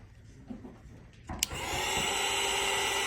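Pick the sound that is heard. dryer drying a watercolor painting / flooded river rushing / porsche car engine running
dryer drying a watercolor painting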